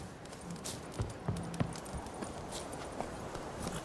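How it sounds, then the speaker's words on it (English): Hooves of a horse in The Witcher 3 video game clop in a quick, uneven rhythm of moderately loud, close thuds over a steady background bed. "Run, Roach"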